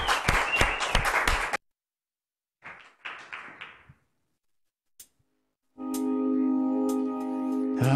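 Brief clapping from a small audience greets a singer, a quick burst of claps lasting a second and a half. A few scattered taps follow after a pause, then sustained instrumental music begins.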